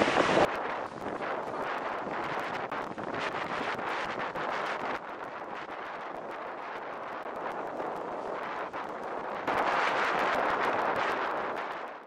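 Strong wind buffets the microphone outdoors in cold Norway in a continuous roaring rush, gusting louder toward the end, with no talking.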